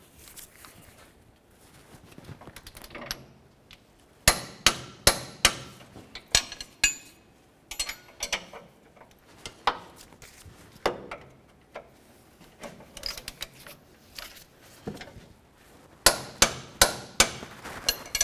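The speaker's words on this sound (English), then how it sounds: "let's go ahead and torque these down to 73 foot-pounds" Bolts on a 1999-2007 Chevy Silverado idler arm bracket being torqued down with a torque wrench: a series of sharp metallic clicks and clanks in irregular bursts, close and fairly loud, with quieter rustling between them.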